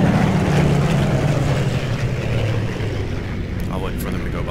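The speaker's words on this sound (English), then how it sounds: "those planes are very loud as they go by" Loud planes roaring past in Plane Mechanic Simulator, a droning engine rumble that swells and then slowly fades, with someone talking over it.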